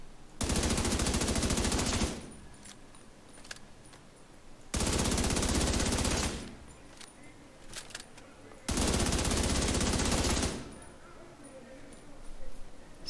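The Chatterbox SMG in The Division 2 fired at targets in three long full-auto bursts of about two seconds each, loud, rapid and close, separated by quiet gaps with faint background sounds.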